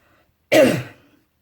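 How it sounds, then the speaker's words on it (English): A single short, raspy throat clearing with a slight cough, close to the microphone, surrounded by silence. "so I apologise for coughing all the time."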